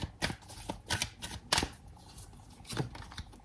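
Tarot cards being shuffled and drawn: soft, close papery riffles and flicks in irregular bursts, fairly quiet, with no talk.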